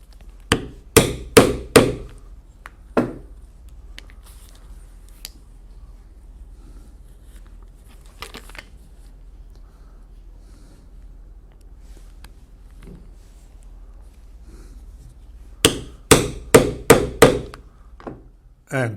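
Metal hammer strikes drive a setter onto crystal rivets in a leather belt, coming in quick bursts of five or six close, loud blows at the start and end, with a few isolated taps and quiet room noise between.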